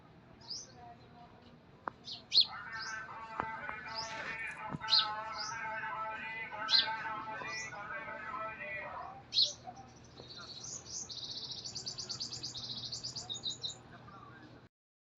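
Several pigeons are kept close by, with soft chirps and cooing calls scattered across a quiet background. A longer burst of calls comes near the end, and faint handling noises are audible.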